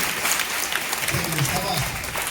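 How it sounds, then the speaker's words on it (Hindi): A group of children at a school event in the presence of a former CRPF officer claps in a brisk, continuous burst of applause, loud and close, with a voice briefly over it. "चलिए उसके लिए भी ताली बजाओ"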